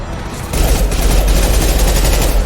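Sustained rapid gunfire in the Mass Effect 2 video game, a loud dense fusillade of overlapping shots with heavy low-end booms, kicking in sharply after a brief lead-in and continuing to the end.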